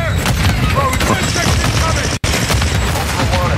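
Dense video-game gunfire fills the moment, a loud continuous fusillade of overlapping shots and bursts with a brief dropout partway through.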